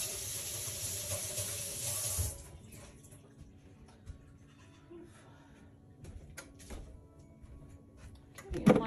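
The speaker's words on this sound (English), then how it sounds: "I'm going to rinse my hands real quick" Tap water running over hands at a kitchen sink, a steady hiss for about two seconds before cutting off, followed by quiet clicks and light handling sounds.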